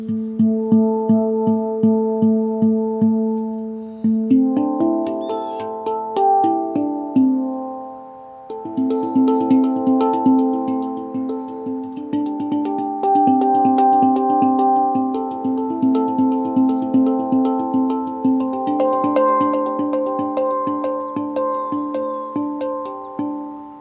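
A handpan is played in a run of struck notes with ringing, overlapping tones, contrasting nitrided, raw and stainless steel shells; the melodic strikes are clear and fairly loud, with no voices.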